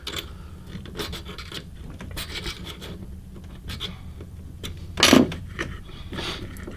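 Metal parts of a Century Arms Mini Draco scrape and rub during a field strip as a stuck part is pried. The scratchy scraping is close and intermittent, with one sharp metallic click or snap partway through.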